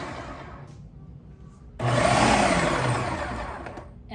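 A food processor chops onions for a family-size tofu scramble, its motor starting abruptly and whirring loud and steady for a couple of seconds before easing off slightly, alone without voices.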